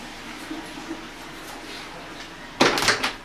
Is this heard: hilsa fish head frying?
no